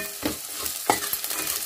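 Grated dry coconut is stirred and roasted in a pan for lemon chitranna, with two distinct scraping strokes of the spoon over a soft, dry sizzle, close up and with no talking.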